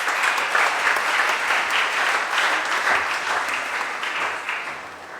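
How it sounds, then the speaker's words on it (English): Sustained applause from a seated audience at a memorial lecture on proctology, welcoming the lecturer; dense, steady clapping that stays loud and even before easing slightly at the end, with no talk. "Please welcome him with a huge round of applause."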